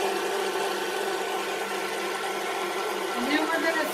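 An electric mixer whirs steadily and close up while mixing keto cupcake batter, a continuous motor drone with a slight shift in pitch near the end as it works.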